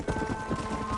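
Hooves of a galloping horse in Red Dead Redemption drum in a quick, rolling rhythm, loud and close, over a steady tonal hum for about a second.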